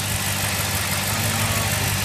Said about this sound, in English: So I just started the car like 5 minutes ago